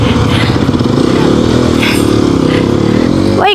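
A motorcycle on a mountain ride near Manang, Nepal, idles loudly and close with a rough, pulsing engine note, then a sharp rising rev at the end.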